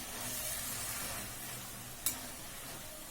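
Tomato and mint frying in a pan with little oil, a faint, steady sizzle heard close with a single small click partway through.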